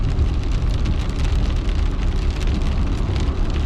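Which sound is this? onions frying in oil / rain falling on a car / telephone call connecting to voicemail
rain falling on a car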